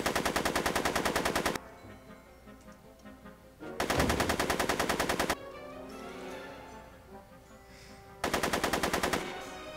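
Rapid machine-gun bursts fire in a Back to the Future video game. Three loud, dense bursts of about one and a half seconds each are separated by quieter gaps of game ambience.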